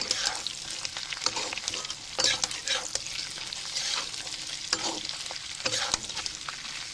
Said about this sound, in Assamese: মাংসখিনি ভালদৰে ভাজি ল'ম